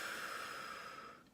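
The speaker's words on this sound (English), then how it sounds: "We're gonna breathe out," Single soft exhaled breath during a singing warmup, a short airy breath-out heard close and quiet, fading away after about a second.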